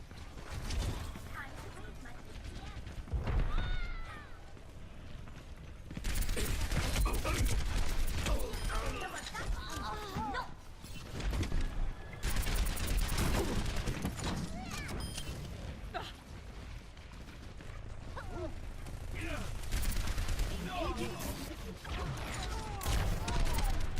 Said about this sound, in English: Rocket barrage incoming.